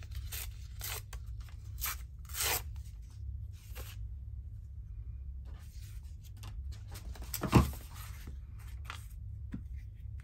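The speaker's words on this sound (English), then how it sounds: "Let's just tear it." Sticky paper ephemera torn by hand in short ripping bursts, with crinkly handling and one sharper snap partway through, close up and without talk.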